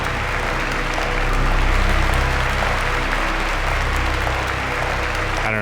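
Characters in the video game Virginia give sustained applause, a dense and loud wash of clapping that continues steadily without letup.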